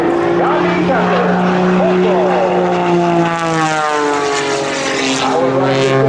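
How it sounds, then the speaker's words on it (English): A stunt propeller plane roars overhead at an airshow, its engine droning loud and continuous with shifting pitch as it passes, while an announcer talks over the noise. "And only once he passes through critical altitude will Sean pull the throttle back, let the nose fall down, turn the smoke back on."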